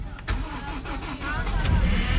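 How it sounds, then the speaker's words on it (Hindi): An old car's engine cranks and starts on the first try in cold snowy weather near Shimla, a low rumbling turnover settling into a steady idle, close up, with people talking over it. "इतनी ठंड में एक सेल्फ में गाड़ी स्टार्ट होना"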